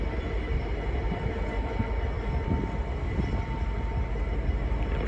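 Freight train rolling slowly through Peterborough station on the East Coast Main Line, a continuous heavy rumble and rattle of wagons, steady and sustained throughout without voices.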